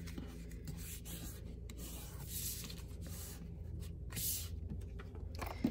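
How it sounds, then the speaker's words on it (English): A garden green cardstock card base folded in half and creased, heard as soft close rubbing and scraping strokes, steady and fairly quiet with no talk. "I'm going to fold my card base in half."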